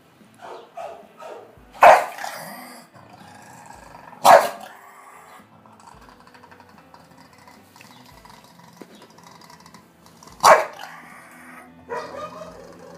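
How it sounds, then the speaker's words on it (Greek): An aggressive Chow Chow in training growls steadily while letting out several loud, sharp barks in bursts, close by, with its low rumbling continuing between the barks. "Όπως βλέπετε, ο σκύλος είναι φοβερά επιθετικός, γρυλίζει συνέχεια."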